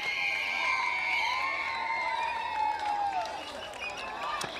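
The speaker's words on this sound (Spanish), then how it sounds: "Recibamos con fuerte voto de aplauso." A crowd cheers and shouts together, with whoops and overlapping voices forming a lively, sustained roar of audience excitement.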